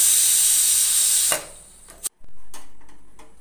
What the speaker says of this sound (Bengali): একটা সিটি পড়ে যাওয়ার পরে আমি স্টিমটা বার করে দিলাম